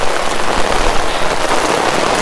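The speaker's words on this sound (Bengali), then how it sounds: "এত অবস্থা বৃষ্টির, একদম পুরো একবার দম দম দম দম দম দম করে ঢালছে" Heavy rain pours down in Murshidabad on a Friday market day, a loud, dense and continuous roar of drops drumming on surfaces close by, with no talking.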